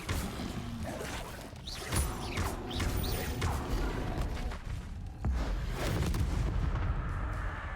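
Spells firing in the Hogwarts Legacy video game, a steady dense wash of blasts, whooshes and booming crashes with several sharp hits, loud and continuous, with no talking.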